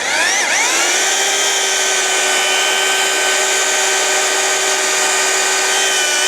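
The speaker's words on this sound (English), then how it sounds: "I got this from a drill from B&Q, but it's an handy drill, 2-speed" A two-speed handheld B&Q drill drives the Eazy Rizer motorcycle lift under a Royal Enfield Meteor, giving a steady, loud, high whine after a brief dip in pitch at the start, running alone with no talk.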